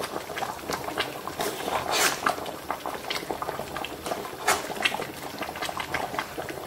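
Broth bubbles in a pot for a Moroccan chicken dish, a dense, steady patter of popping bubbles heard up close with no voices over it.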